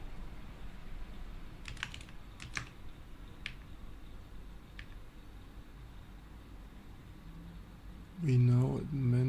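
Computer keyboard keys click sparsely and faintly, a few isolated taps against a quiet background hiss, before a voice briefly speaks at the end.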